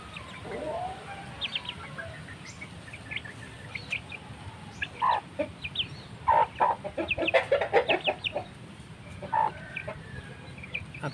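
A gray Burmese chicken clucks on a small farm in Yogyakarta, Indonesia, giving scattered short clucks and soft calls that grow busier toward the middle, close by over a low outdoor background.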